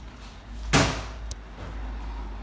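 A main entrance door opens with a single loud whoosh and thud, then a brief click, over steady low background hum.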